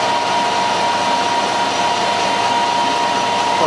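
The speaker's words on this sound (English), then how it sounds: "Machining quite nicely." Tough steel bolts being machined on a lathe, a continuous steady whining cut with a constant tone, close and loud, no talk.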